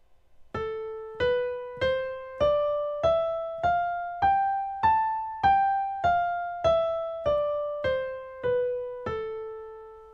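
A single melodic instrument plays a minor scale, fourteen evenly spaced, cleanly plucked notes rising step by step and then descending, each note decaying quickly before the next, alone with no voices.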